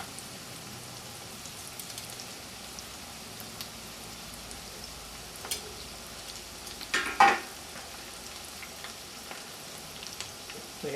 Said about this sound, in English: And fry them until they're golden brown, probably on the order of 4 minutes to a side, over medium heat, medium high